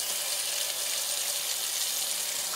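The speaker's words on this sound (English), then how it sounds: "Go ahead and wash your hands." Tap water runs steadily for hand washing after a home water-pipe repair, a close, even hiss with no breaks for the whole stretch.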